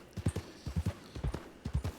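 Horse hooves clip-clop in a steady rhythm in the WildRP game, four groups of paired hoofbeats, near and fairly loud, with no talk over them.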